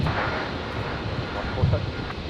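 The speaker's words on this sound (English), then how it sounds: "United 97 just about to rotate the 7879" A United Boeing 787-9 on its takeoff roll at windy Brisbane airport, a broad, steady engine roar heard from a distance, with wind buffeting the microphone and a voice talking under it.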